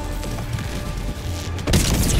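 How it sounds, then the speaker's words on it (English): A hell bomb goes off in the Helldivers video game to destroy an enemy jammer, landing as a sudden heavy blast that breaks in on a steady rumble and keeps roaring as a loud, sustained crash. "After the hell bomb kills the jammer."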